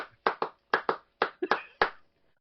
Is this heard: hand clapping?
yes